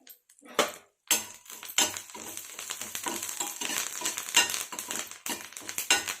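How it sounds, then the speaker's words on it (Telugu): Curry leaves and turmeric tempering fry in a hot pan for buttermilk rasam, with crackling sizzle and repeated clinks and scrapes of a spoon stirring, close and busy. "అంతే అండి, పోపు వేగిపోయింది."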